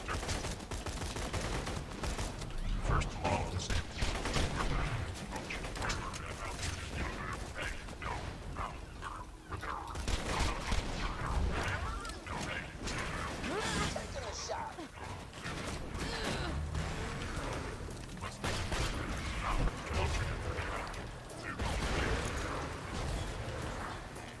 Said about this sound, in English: With the Kerblaster, you've always got those extra grenades going off.